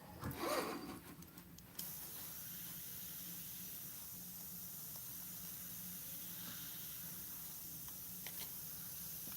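An airbrush sprays Createx paint onto synthetic paper, a faint, steady hiss that runs almost continuously after a brief rustling start, with no voices.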